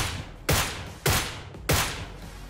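Gunfire in a battle royale shooter game, four loud, evenly spaced heavy shots each trailing off into a fading echo, close and alone without talk.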